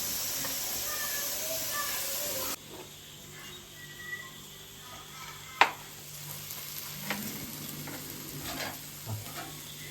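Onions for chicken kappa biryani fry in a pan, starting with a loud, dense sizzle that drops to a softer, steady frying hiss with occasional sharp stirring knocks.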